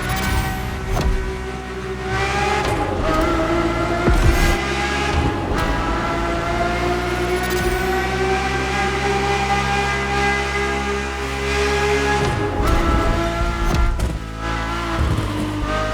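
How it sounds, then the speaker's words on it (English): A Ferrari F50's naturally aspirated V12, an engine derived from Formula One, in The Crew Motorfest, holding a loud, rich, layered drone that swells and eases with shifts, running steadily throughout with no voices. "The F50's core is a normally aspirated V12 that came straight from a Formula One."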